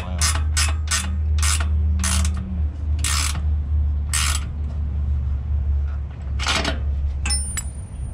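Metal travel trailer double entry steps being cranked out give a series of sharp ratcheting clicks in a regular rhythm, loud and close, over a steady low hum, with no talking.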